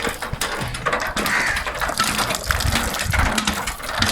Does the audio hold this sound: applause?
no